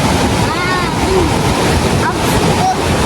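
A mountain river at Koksu rushes loudly and steadily, a dense broadband roar of flowing water with wind noise close to the microphone throughout.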